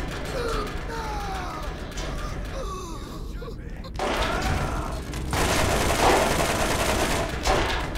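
Gunfire and mechanical clatter from the video game Borderlands, a dense continuous barrage that swells louder in the second half, with faint voices mixed in among the shots.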